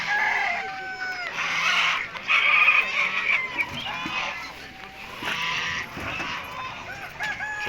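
Hens cluck and squawk close by while a rooster crows at a pigeon market in Sakarya, Turkey, a busy, overlapping chorus with brief quieter gaps.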